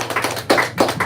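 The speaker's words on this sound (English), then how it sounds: "Can we get a hand clap for her?" Audience hand clapping at a women's jam opening set, a close, loud burst of sharp claps in uneven rhythm with no speech.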